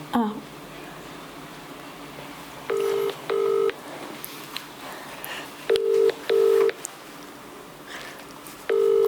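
A phone line's ringback tone sounds in repeating pairs of short bursts, roughly every three seconds, over a steady hiss of background noise.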